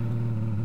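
A car engine drones steadily in the DayZ video game, a loud, even mid-pitched hum with no change in pitch across a brief moment of driving.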